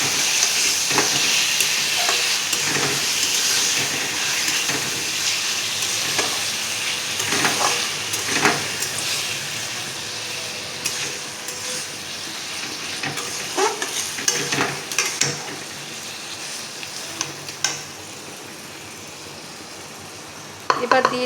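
Boiled taro leaves sizzle and fry in a hot pan, with steady stirring and spatula scrapes over a continuous hiss throughout.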